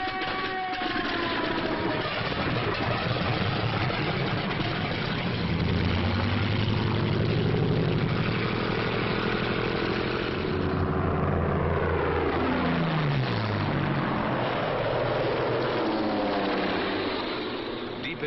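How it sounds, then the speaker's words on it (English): Engines of WWII German Bf 109 and Focke-Wulf 190 fighter aircraft drone steadily, with pitch sweeping up and down as the planes pass, their overlapping propeller roar fairly loud and continuous throughout. "This captured film shows how quickly the 109s and the Focke-Wulf 190s got into action."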